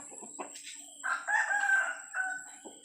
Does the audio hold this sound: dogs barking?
no